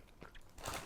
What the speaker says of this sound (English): You'll be able to tell by the crunch that they're completely different.